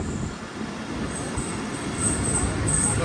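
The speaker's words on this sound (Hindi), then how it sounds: "4:50 ट्रेन हमारी पहुंच रही है बंद सईदाबाद रेलवे स्टेशन पर।" A train pulls into Saeedabad railway station on the Larkana to Kotri route in Pakistan, a steady rolling rumble with a faint high wheel squeal above it.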